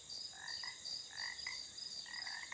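Frogs croak at a pond at night, many overlapping rasping calls answering one another in a dense chorus, fairly faint and steady with no voices.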